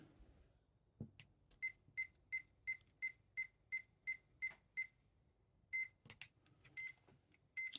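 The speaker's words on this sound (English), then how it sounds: "now we moved on to a single beep" A string of short electronic beeps from a Hobbywing QuicRun WP 1080 G2 brushed speed controller at an even, quick pace, then a pause and a few more beeps, quiet and isolated.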